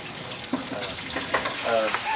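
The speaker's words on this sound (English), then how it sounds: "when the water fills up, it creates an automatic siphon. It just pulls all the water down" Water gurgling and draining as an automatic D-siphon pulls a filled bed down, a bubbly splashing wash with short irregular bursts, close and fairly loud.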